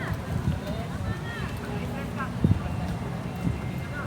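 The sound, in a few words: horses clip-clopping nearby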